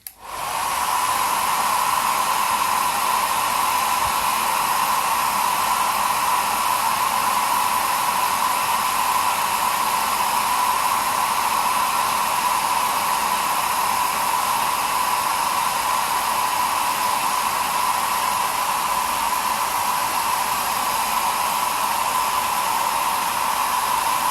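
A hair dryer blows steadily for over twenty seconds, drying paint on a Van Saar ganger miniature; a loud, continuous close airy whoosh with a constant whine and no talking.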